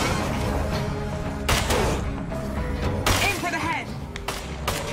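Several sharp bursts of gunfire in State of Decay 2 crack through a dense, noisy game soundscape, with rumbling background effects and a voice speaking intermittently.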